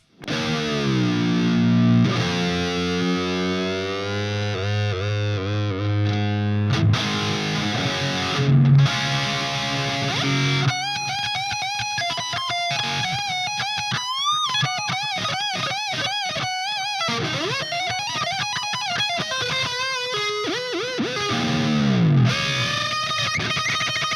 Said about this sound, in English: Now the delay is kicked in.